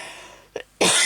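A single woman's cough, close and fairly loud, preceded by a short throat noise and a quiet room.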